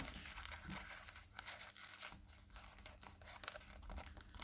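Clear transparent adhesive tape being pulled and torn from the roll while assembling homemade maracas: a faint, steady ripping crackle that runs for several seconds, with a few sharper crinkles.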